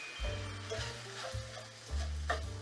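Sausage browns in a cast iron pan and is scraped and stirred, with a steady sizzle and repeated scraping strokes. A low tonal hum runs underneath throughout.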